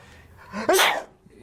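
One sharp human sneeze, close and loud, with a short breathy intake just before the burst.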